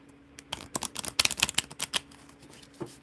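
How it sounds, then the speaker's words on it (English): Quick crisp flutters and light snaps of a heart-shaped tarot deck being shuffled by hand, close and fairly quiet, in uneven bursts that thin out toward the end. "They're very complicated to shuffle."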